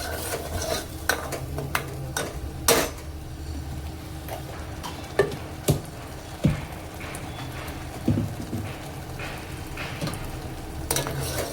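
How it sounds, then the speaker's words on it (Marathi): Masala paste for a rustic egg curry being sautéed in oil in a pan, a steady soft sizzle broken by sharp scraping and tapping of a spoon against the pan at irregular intervals, close and without speech. "तर आपल्याला ह्या वाटणाला छान परतवून घ्यायचं, छान तेल सुटलं पाहिजे वाटणाला"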